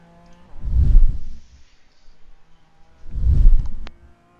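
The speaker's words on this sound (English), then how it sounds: "Good timing for that cup car to get by me." In the iRacing video game at the Nürburgring 24 Hours, two race cars roar past one after another, each a loud swelling engine whoosh that rises and fades, separated by a quieter gap.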